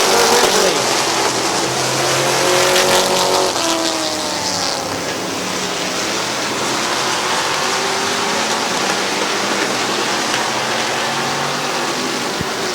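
Race cars roar around the oval at Midvale Speedway on the final lap, a loud, steady wash of engine noise with faint whining tones early on and a steady hum throughout.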